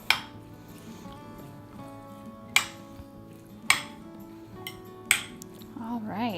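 A metal spoon stirs chickpea pasta salad in a bowl, sharp clinks against the dish arriving every second or so, with soft squishy mixing between them.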